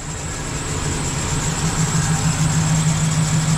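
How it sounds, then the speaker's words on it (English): A Ford Econoline van engine idles steadily and close by, a continuous low rumble with a faint high whine from a noisy belt, no voices. "you should turn the car on and just let it run for a little while"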